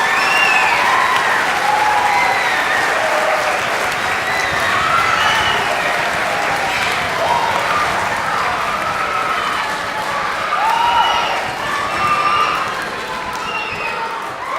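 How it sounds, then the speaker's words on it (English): A school band concert audience applauds its principal and assistant principal with loud, sustained clapping from a large crowd, scattered whoops and cheers rising through it before it eases slightly at the end. "So we should definitely give them a round of applause for everything that they do."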